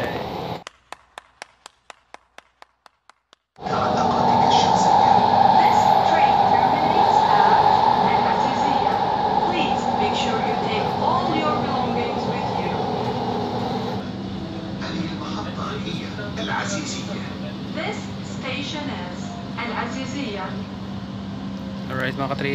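From the front car of a metro train near Azizia station, a few sharp clicks come first, then a steady, loud rumble and hum of the train running through a tunnel that slowly eases off.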